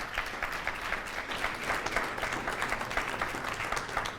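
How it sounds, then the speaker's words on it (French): Studio audience at a French a cappella singing contest applauds a contestant, dense sustained clapping with no voices on top. "Merci d'applaudir pour elle."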